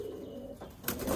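Roller pigeons coo low and throaty inside a pen, a short burst of calls with a brief rustle of wings near the end.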